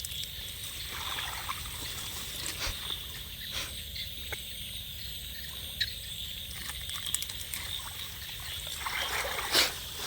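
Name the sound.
flood water flowing over fish trap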